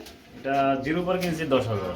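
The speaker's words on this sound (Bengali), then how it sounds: "কবুতরগুলো পাঁচশো টাকা জোড়া থাকবে" Pigeons coo at a market stall where pairs are offered for sale, soft repeated throaty calls close by, with a voice speaking over them.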